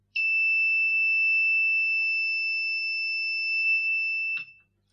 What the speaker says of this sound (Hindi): और सेपरेट होने के साथ ही एक अलार्म बजने लगेगा